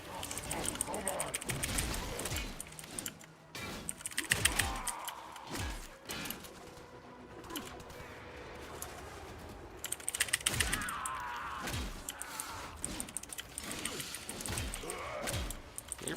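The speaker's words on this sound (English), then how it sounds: "You're probably hearing a lot of keyboard nonsense because I'm smashing the keyboard quite a bit." A computer keyboard is typed on hard in bursts of loud clacking taps during a Warframe session on PC, mixed with game sound effects and speech.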